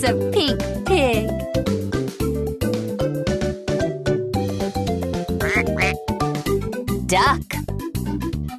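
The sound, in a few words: duck quacking sound from Fisher-Price toy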